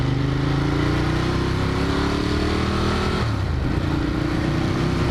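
A Ducati Monster 1200 motorcycle rides along with a loud, close engine drone that rises in pitch as it accelerates, dips briefly with a gear change, then climbs again.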